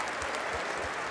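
Stadium crowd at a Wigan Warriors versus St Helens rugby league derby applauding an injured player, a steady wash of distant clapping filling the whole moment with low thumps underneath.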